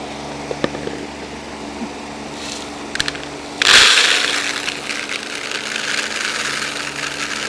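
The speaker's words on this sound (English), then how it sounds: "I have my Champion juicer here and it has an attachment which is a grain grinder" Champion juicer fitted with its grain grinder attachment starting to grind dry corn kernels, a sudden loud harsh crushing roar after a few soft clicks, continuing steadily to the end.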